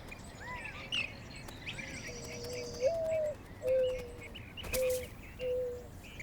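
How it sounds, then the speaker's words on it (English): Several desert birds call among saguaro cacti on a Sonoran Desert morning, a few high chirps and then a run of steady mid-pitched whistled notes, moderately near, over a soft outdoor hiss and a brief clatter. "Birds feast on pollen and nectar, a life-saving miracle in the grim days of June."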